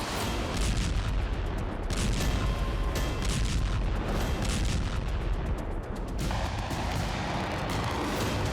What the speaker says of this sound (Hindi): उधर क्रीमिया दहल रहा था तो इधर यूक्रेन के ओडेसा में धमाके हो रहे थे।